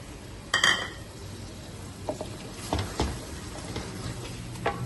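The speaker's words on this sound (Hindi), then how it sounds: "हमारे गोश्त की जो है भुनाई हो रही है" Meat cooking with whisked yogurt in a pot as it is browned (bhuna), a faint steady sizzle broken by several sharp spoon scrapes and clinks against the pot.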